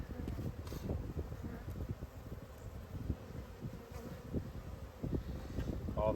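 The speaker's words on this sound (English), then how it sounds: "too many bees." Honeybees buzz around frames during an early-season hive inspection, a steady swarming drone broken by soft handling knocks and a little wind rumble.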